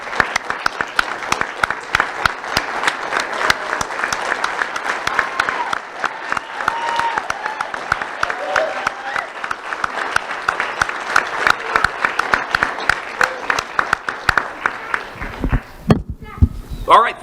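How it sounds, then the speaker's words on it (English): Award winners receive a standing ovation: sustained, dense clapping from a large audience for about fifteen seconds, fading as a voice begins speaking at the end. "let's finish by giving our winners one big final standing ovation"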